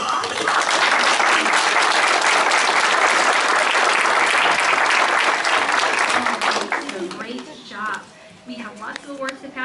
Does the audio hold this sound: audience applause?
yes